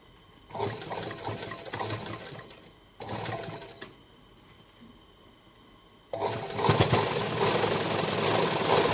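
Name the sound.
sewing machine stitching a blouse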